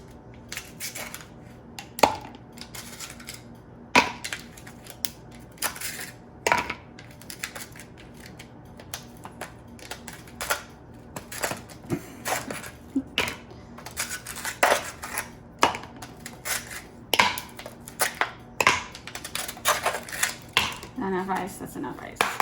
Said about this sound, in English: add ice.